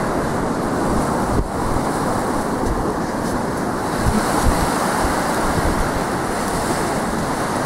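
Sea waves washing onto a beach, a loud steady roar of surf with wind buffeting the microphone, continuous throughout with no voices.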